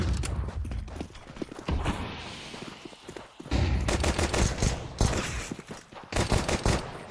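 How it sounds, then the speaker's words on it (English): Rapid Glock pistol shots crack in bursts during a professional Counter-Strike match, sharp taps repeating in quick clusters with brief pauses, mixed with other gunfire and game noise. "Matios tapping away with the Glock, P250 Glock combo"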